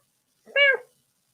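A cat lets out a single short, clear meow, close to the microphone in a quiet room.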